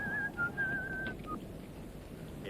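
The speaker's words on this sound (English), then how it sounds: "Stop that whistling." Someone whistles a short tune in a western film, a few clear sliding notes up close for about a second before fading into a quiet background.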